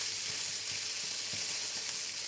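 Steady, faint sizzling hiss of rice noodles frying in a hot pan, with soft scattered crackles and no voices.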